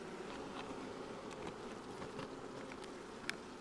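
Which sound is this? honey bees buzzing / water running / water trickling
honey bees buzzing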